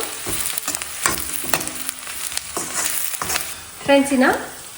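A large chopped onion fries in a pan, with close, loud sizzling and repeated scraping stir strokes, rising to a stronger burst near the end.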